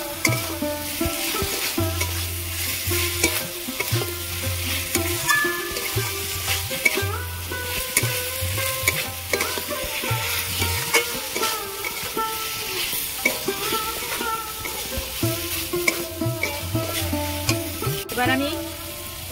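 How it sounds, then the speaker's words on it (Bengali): Fried okra is stirred into gravy in a pan, with a spatula scraping and clanking in a steady rhythm over a low, continuous sizzle, close and fairly loud, and no talking. "এবার আমি ভেজে রাখা ঢ্যাঁড়সগুলো দিয়ে দেব, দিয়ে আবার এইভাবে ঢ্যাঁড়সের সঙ্গে গ্রেভি ভালো করে কষিয়ে নেব।"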